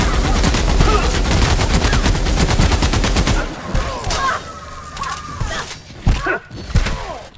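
Gunfire in The Outer Worlds video game comes as a rapid burst of loud automatic shots for about three seconds, followed by scattered single shots and thuds.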